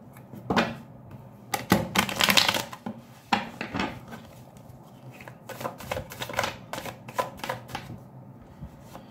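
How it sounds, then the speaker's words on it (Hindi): Tarot cards being shuffled by hand in repeated bursts of riffling and flicking, close and fairly loud, with short pauses between shuffles. "लेट मी शफल मोड, जितना हम शफल करेंगे उतना अच्छा है।"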